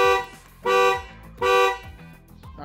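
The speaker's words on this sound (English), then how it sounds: "So let's go ahead and click that alarm button." A car alarm set off by the alarm button on a universal key fob blares in two loud horn blasts about a second apart, with a shorter chirp starting at the close.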